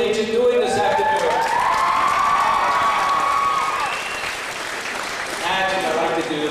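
School students at Carberry Collegiate cheer and clap together in a loud, sustained crowd roar with rising shouts, dipping briefly before swelling again.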